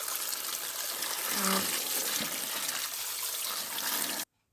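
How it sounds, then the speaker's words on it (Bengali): Running water pours steadily as mature flat beans are washed, a constant close splashing stream with a voice briefly heard, ending abruptly. "এখানে দেখো সিমগুলো ভালোভাবে ফ্রেশভাবে ধুয়ে নেওয়া হচ্ছে"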